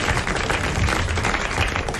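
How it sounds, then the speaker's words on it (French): Audience applause on a 1980 French television game show for a contestant who has just won 500 francs, a dense continuous clapping from a crowd, steady and fairly loud throughout. "vous allez applaudir, et il l'a bien mérité"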